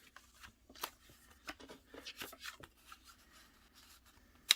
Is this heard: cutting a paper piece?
yes